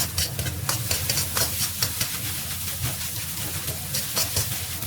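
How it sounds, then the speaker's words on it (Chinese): Egg fried rice being stir-fried in a wok, a steady sizzle with repeated rhythmic scraping and tossing strokes of a spatula, close and fairly quiet, with no talking. "不断的翻炒"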